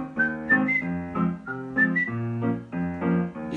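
Someone whistles a lilting, ballroom-style dance melody alone, clear and close, with quick ornamented notes rising and falling in steady phrases.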